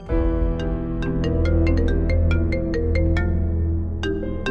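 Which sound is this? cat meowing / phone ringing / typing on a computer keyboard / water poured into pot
phone ringing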